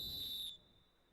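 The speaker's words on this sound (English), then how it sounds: "As you hear the whistle," A referee's whistle sounds once at a six-a-side football game, a single sharp, shrill blast lasting about half a second before cutting off, with a faint tone lingering after.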